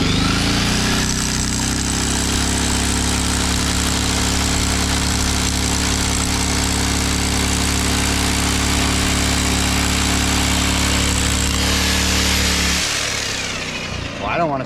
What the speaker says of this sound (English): We also had to buy this drill, but let's see what this drill does.